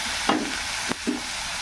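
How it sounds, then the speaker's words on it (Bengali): Flattened lentil fritters (bora) fry in hot oil, making a soft, steady sizzle close by, with a couple of brief clicks from a utensil. "তেল হয়ে গেছে আমি চ্যাপটা চ্যাপটা করে এই যে এরকম চ্যাপটা চ্যাপটা করে কটা বড়া ভেজে নেব"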